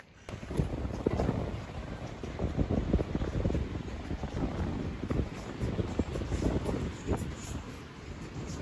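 Strong, cold wind gusts outdoors during an evening run, roaring and buffeting steadily and loudly with uneven surges, with no speech.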